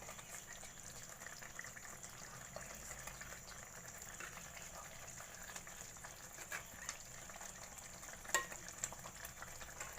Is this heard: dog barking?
no